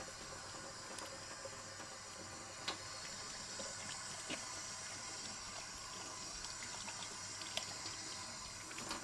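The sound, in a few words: washing hands under running tap water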